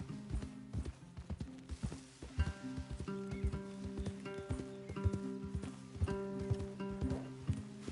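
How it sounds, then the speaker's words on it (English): Steady clip-clop of horse hooves on hard ground, a rhythmic run of sharp knocks at close range, with a faint musical tone underneath. "Leave the horses in the trees there."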